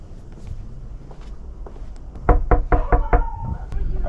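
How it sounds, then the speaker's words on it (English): Loud knocks on a door from a delivery driver dropping off a Starbucks order, a quick burst of about six sharp raps close by, after quieter shuffling steps. "It says knock on door loudly"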